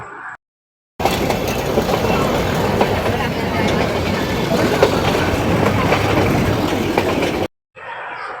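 The Ooty toy train on the Nilgiri mountain rack railway runs along, with a continuous rumble and rattle of wheels and carriages, close and loud, and brief quieter gaps at the start and end.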